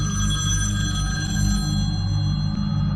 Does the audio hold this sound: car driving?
no